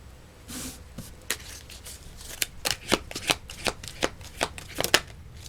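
Tarot cards shuffled by hand up close, a run of crisp riffling flicks and slaps that speed into a quick irregular rhythm, with no talk.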